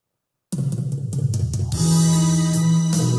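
After a short silence, a backing track kicks in with punchy drum hits, then sustained string chords swell and hold under the beat.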